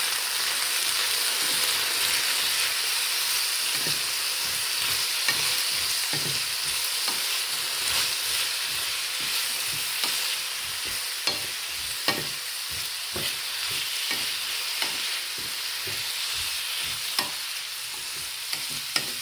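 Kohlrabi, drained of water, stir-fried with onions in a pan: a constant bright sizzle with frequent quick scraping and tapping strokes of a spatula, close and continuous, with no talk.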